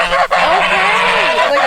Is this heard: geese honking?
yes